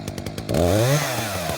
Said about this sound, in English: And that's the chainsaw.